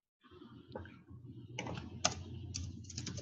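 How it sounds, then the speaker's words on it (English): Quiet clicking of typing on a computer keyboard, irregular bursts of keystrokes with short pauses and a sharper tap partway through, heard alone at close range. "So I'm done typing my part up."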